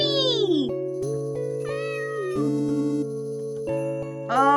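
A video game cat gives a series of electronic, tonal meows over a steady, sustained synth background, with a rising mew near the end.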